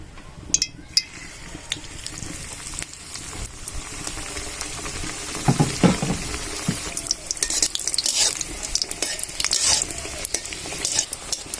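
Coriander-leaf paratha frying in oil in a home pan, with a steady low sizzle, scattered soft pops and occasional scraping taps as it is turned, close and moderately loud throughout.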